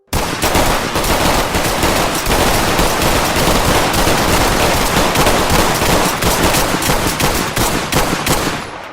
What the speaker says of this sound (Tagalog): bigla nang bumunot ang baril si Fixer at nagsimula na silang magpalitan ng putukan